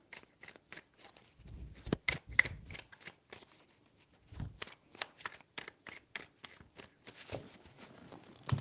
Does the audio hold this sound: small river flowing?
no